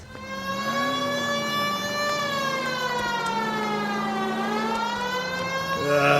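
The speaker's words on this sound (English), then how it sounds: "We have a siren" A police car siren wails in the video game L.A. Noire, a continuous rising and falling tone heard loud and steady throughout, with a thump near the end.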